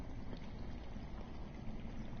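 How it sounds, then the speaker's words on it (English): Steady low rushing of underground water flowing somewhere out of sight in the Game of Thrones video game, a faint, continuous broadband wash with no distinct splashes, heard alone. "I hear water. From underground."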